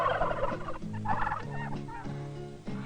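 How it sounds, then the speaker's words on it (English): Several turkeys gobble in rapid, warbling bursts, a dense, close chorus of fowl calls lasting a few seconds with no talk. "Turkey. Turkeys."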